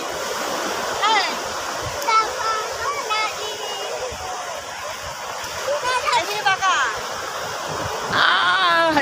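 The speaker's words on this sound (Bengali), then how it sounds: "এই সমুদ্রের ঢেউ" Sea waves wash and break along the beach at Digha, a continuous broad surf roar with intermittent splashing surges, while people talk over it throughout.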